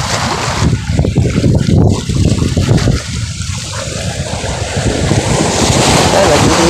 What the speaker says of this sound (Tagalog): Napakalakas ngayon ng hangin at alon.